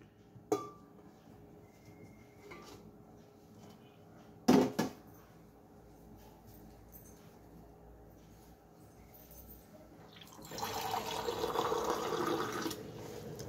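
Half a glass of water pours into a pan of gongura leaves with onion and garlic pieces, a faint clink at first and then a rising, steady splash of water near the end, with no voices.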